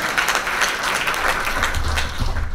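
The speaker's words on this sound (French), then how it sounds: "Moi je t'applaudis, c'est bon ça." Audience applause at a real estate event talk, a steady wash of many hands clapping for the whole stretch, with a low hum rising underneath toward the end.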